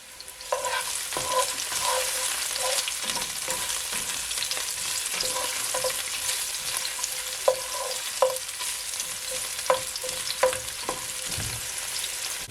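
Two cloves of garlic saute in a hot pan for a Jamaican corned beef and cabbage, a steady close sizzle with a few sharp spoon taps and scrapes against the pan near the end.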